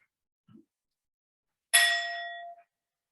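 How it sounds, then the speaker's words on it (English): A single meditation bell struck once during a worship service, ringing out clear and bright with a long sustained tone that fades after about a second; a faint soft thump comes just before it. "I'll start the meditation with one bell"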